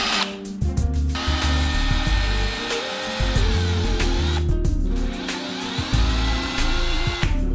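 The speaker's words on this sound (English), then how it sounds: "Okay, let's drill it." A Milwaukee M12 Fuel drill driver runs in bursts, a high whirring motor that spins up, holds and briefly cuts out before revving again, loud and close with no talking.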